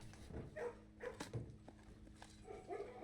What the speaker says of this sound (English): And I could pet the dogs.